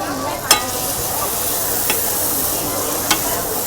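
Ingredients for rendang chicken frying in a pan give a continuous close sizzle with a few sharp clicks of a utensil against the pan.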